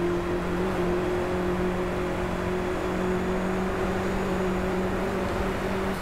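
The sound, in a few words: Volkswagen Beetle engine in the video game Driveclub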